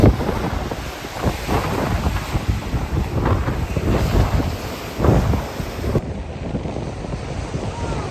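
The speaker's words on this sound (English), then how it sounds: "It is windy." Wind buffets the microphone with steady low rumble and gusty surges outdoors, the roar dropping slightly near the end; no clear speech over it.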